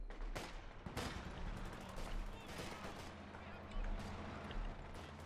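Gunfire rattles around a base in the World War II strategy game Company of Heroes, with repeated sharp shots and bursts of automatic fire over a low rumble, while someone talks over the battle.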